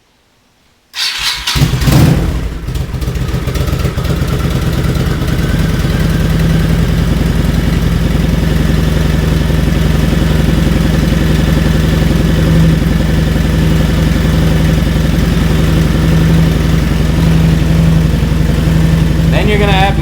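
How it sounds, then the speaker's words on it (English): A 1995 Honda Shadow 1100 ACE motorcycle engine cranks and fires after a moment of silence, then settles into a steady, loud, close-up idle with an even low throb for the rest of the clip. "you want to start up the bike and let it suck in the coolant"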